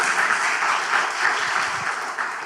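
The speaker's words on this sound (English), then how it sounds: "So a big applause to you as well" Dense, steady applause from delegates at a data innovation summit's closing session fills the room, a continuous crowd of many hands clapping together at an even level without a break.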